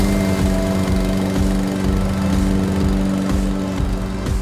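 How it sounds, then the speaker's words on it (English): A custom lawnmower rigged with police-style lights runs steadily close by, its small engine droning loudly with a constant buzzing hum and slight rhythmic pulsing. "I decided I'll make a special lawnmower that lights up like a police car"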